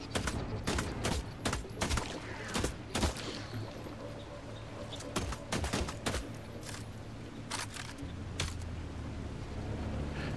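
Rapid gunfire in The Last Caretaker video game, loud, dense bursts of shots fired in quick succession over a steady background rumble, continuous for about ten seconds with no speech.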